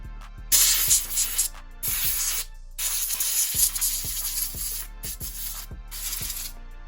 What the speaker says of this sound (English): But usually I just get the air compressor, spread all that out